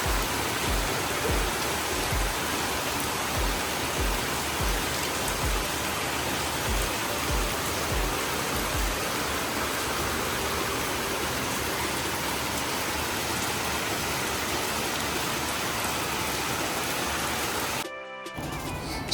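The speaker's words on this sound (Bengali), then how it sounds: "প্রচন্ড ঝমঝম করে কালো করে বৃষ্টি হচ্ছে" Heavy monsoon rain pours down outside under a dark sky, a loud, dense, continuous hiss of water on surfaces that holds steady before cutting out abruptly near the end.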